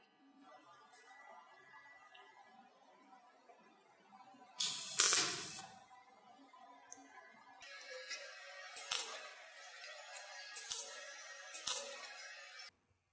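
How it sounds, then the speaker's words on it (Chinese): Homemade argon TIG welder working on stainless steel, giving a hissing, crackling arc with a loud burst partway through, then several sharp sputtering flares over steady background hiss. "试试焊接不锈钢。"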